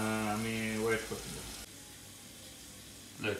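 Onion fries in a pan for a Bangladeshi koi fish curry, a steady close sizzle that follows a brief tonal sound at the start, with no talking.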